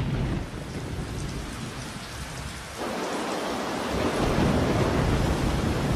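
Heavy monsoon rain in the Western Ghats pours in a dense, continuous roar, growing louder partway through, with low rumbling thunder underneath; no voices.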